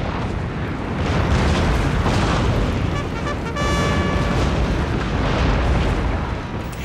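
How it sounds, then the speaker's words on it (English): Loud, continuous rumbling bombardment from a fleet's naval guns in a strategy battle game, with heavy booms rolling into one another and a brief tonal whine partway through. "you can call in support with some devastating naval bombardment"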